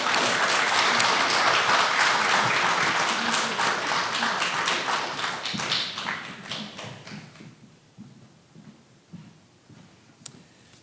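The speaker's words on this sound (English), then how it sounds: "a round of applause for those who know they deserve them." Audience applause after a poet's reading at a hometown open mic, a dense sustained clapping that slowly thins out and fades over about eight seconds, ending in a few scattered claps in a quiet room.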